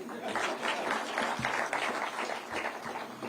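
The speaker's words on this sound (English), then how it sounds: "So we need to give that Jogo a round of applause" A crowd applauds at a ministry environment strategic plan launch ceremony, a dense, even wash of clapping held at a moderate, somewhat distant level for a few seconds without a break.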